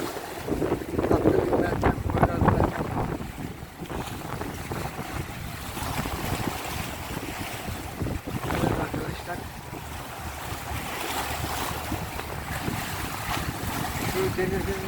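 Strong wind roars and buffets the microphone by the sea at Sarayburnu, with swirling surf washing underneath and a voice speaking faintly through the gusts.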